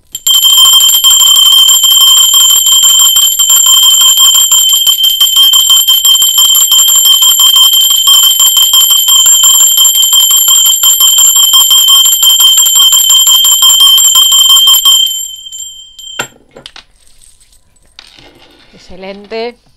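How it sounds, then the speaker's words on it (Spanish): A bell rings loudly and continuously with a bright, shimmering metallic tone for about fifteen seconds, then cuts off, leaving a few soft tinkling and clinking sounds; no one speaks. "campana."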